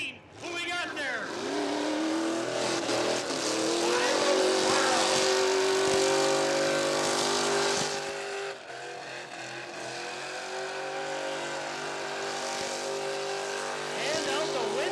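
Pickup truck doing a one-handed burnout at the Rockford Speedway burnout competition, its engine roaring loud and sustained with revs rising and holding for the whole stretch, crowd and announcer voices mixed underneath.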